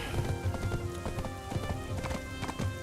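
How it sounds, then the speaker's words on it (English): Horse hooves clip-clop in a steady rhythm as a rider travels through the open world of Black Desert Online, the clopping moderately loud and continuous over a soft ambient backdrop. "Riding horse."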